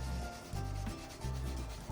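Wood is sanded by hand in close, rhythmic back-and-forth rubbing strokes, each lasting under a second, repeating steadily with no voices.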